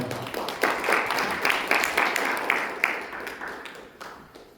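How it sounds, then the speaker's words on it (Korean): An audience at a maritime labor union council's spring forum claps, a dense round of applause that swells, holds steady, then gradually fades away. "박수 부탁드립니다"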